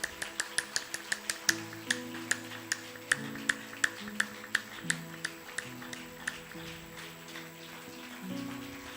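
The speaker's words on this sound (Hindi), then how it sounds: "आइए जोरदार ताली बजाएंगे यीशु मसीह के लिए" Sharp, scattered claps ring out in an irregular rhythm, fairly quiet against a held musical drone or keyboard chords, as a church audience applauds for Jesus Christ.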